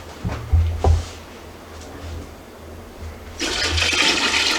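Simple syrup is poured into a big pot of limoncello: a couple of soft knocks come first, then a steady, full rushing pour of liquid runs through the final second or so, with no talking.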